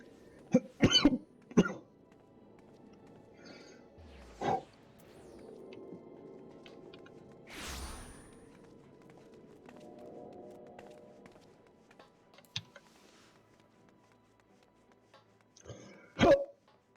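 A person coughs several times in sharp bursts, with a throat clear and a couple more coughs spaced apart, close to the mic over faint background game audio.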